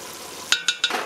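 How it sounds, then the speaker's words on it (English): Stirring chili flakes, oregano and tomato paste in a pan: a soft background sizzle broken by three quick scraping strokes of a utensil in the last half second. "let me stir this around"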